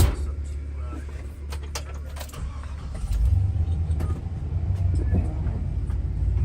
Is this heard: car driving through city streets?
yes